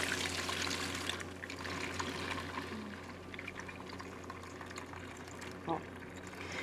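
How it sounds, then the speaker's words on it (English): Blended cashew smoothie poured through a strainer, giving a steady wash of liquid noise that is loudest early and then settles into a softer trickle, close by, with no talk. "pour it through that same strainer so you don't even have to wash it"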